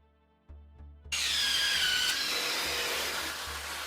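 Ryobi One+ R18IDBL cordless impact driver set to maximum power driving a screw into wood: a couple of short motor blips, then a loud, steady buzzing whirr that runs to the end, close up with no talking.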